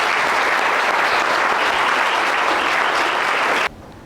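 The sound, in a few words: audience applause for the brothers at youth justice conference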